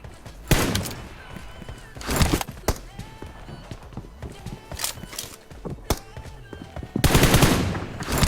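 Bursts of automatic gunfire from a shooting video game crack out loud in several separate volleys, with a brief background voice.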